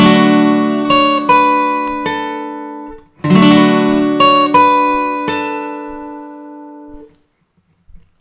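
Acoustic guitar rings out a song's intro chord, strummed and plucked up close in two ringing phrases that fade to near silence.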